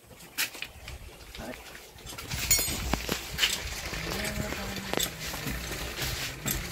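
A broom sweeping a cluttered floor at home gives repeated dry, scratchy swishes in irregular strokes, fairly close and moderately loud, with a faint voice murmuring briefly near the end.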